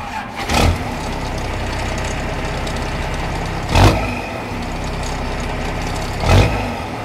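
A professionally installed Cummins 5.9 12-valve diesel idles steadily in a 1967 International Harvester Travelette 4x4, a continuous low rumble broken by three brief louder surges spaced a few seconds apart.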